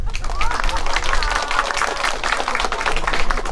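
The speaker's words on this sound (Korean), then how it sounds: "자, 미리 마이가리로 우리 아버지들만 박수!" An outdoor concert audience claps for the fathers in the crowd, a dense, steady wash of many hands under a busy, noisy background, with crowd murmur throughout.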